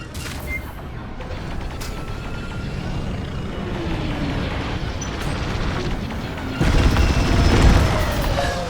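Heavy explosions from a bombing run in the space combat game Star Wars Squadrons, a dense barrage of booms and crackling blasts rumbling continuously, swelling into a louder burst near the end, no speech.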